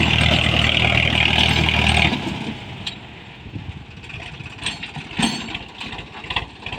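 A tractor doing deep tillage with a rotavator, its diesel engine droning loud and close at first, then dropping to a rougher, quieter running note as it works the field.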